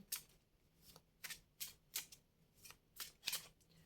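Repeated crisp riffling bursts of playing cards being shuffled, about ten quick flutters at an irregular rhythm, close and fairly quiet with no talking.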